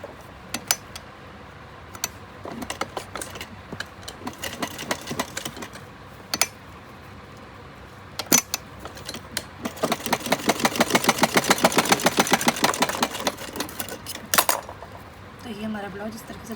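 A sewing machine stitches a kali-style dress for a Laddu Gopal idol, running in one steady, fairly loud burst of fast rhythmic clatter midway through, with scattered clicks and fabric handling before and after.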